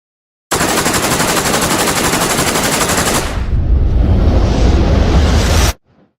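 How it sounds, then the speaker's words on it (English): Rapid automatic gunfire rattling in a continuous loud burst for about three seconds, then turning into a heavy low roaring blast that holds before cutting off abruptly. "Like rapid gunfire?"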